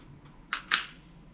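A pistol fitted with a laser fires two sharp, loud shots about a fifth of a second apart, each with a quick bright crack and short decay, alone against a quiet outdoor background.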